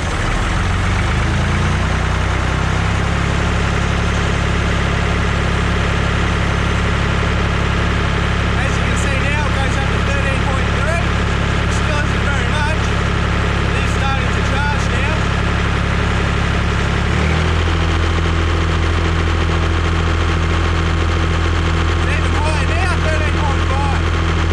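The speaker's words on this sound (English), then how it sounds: "What I'll do now is I'll increase the revs of the tractor" A tractor engine idles steadily, then its revs rise so a generator starts charging; a deep continuous drone, close and loud, shifts to a higher steady pitch near the end, with faint background sounds.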